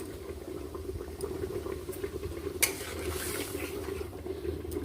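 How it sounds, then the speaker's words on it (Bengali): A pot of fish curry broth for ridge gourd and hilsa bubbles and simmers steadily close by, with small pops and a brief clink partway through, no voices. "ঝোলটা ফুটছে"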